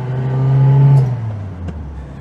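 A Zastava 750 gearbox whines in first gear, which has no synchromesh, as the engine revs: a steady mechanical tone climbs and then fades under the car's engine drone. No one talks.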